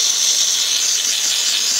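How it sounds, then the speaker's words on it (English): Steam hisses steadily from the spouts of a Jura ena Micro 90 coffee machine during a tune-up test, a continuous bright, close hiss with no voices. "Working good, really good temperature, excellent steam coming out of the spouts."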